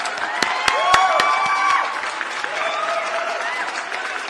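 A crowd's applause for an international community welcomed on a Spanish-language broadcast, with a few sharp isolated claps at the start settling into steady, fairly close clapping, while tonal sounds and faint voices run through it.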